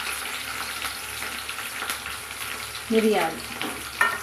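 Garlic, green chillies, onion, red chillies and curry leaves fry in hot oil for sabudana khichdi, giving a steady close sizzle with louder stirring scrapes near the end and a brief spoken word.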